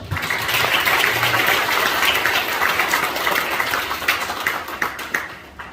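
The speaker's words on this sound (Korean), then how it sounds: "열정적인 인사말 해주신 두 분께 다시 한번 큰 박수" An audience at a Democratic Party academy gathering in Gwangju applauds two speakers, a close, sustained burst of many hands clapping that gradually thins toward the end.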